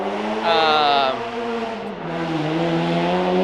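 Supercharged C6 Corvette drift car with LS3 heads, a single cam and 489 wheel horsepower, its engine loud and close, revving up into a bright whine, then dropping and holding a steady throaty drone.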